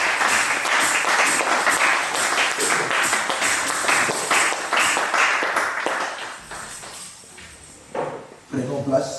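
A church congregation bursts into loud, sustained clapping and cheering that fills the room for several seconds, then thins out into scattered claps and shuffling, with voices rising near the end.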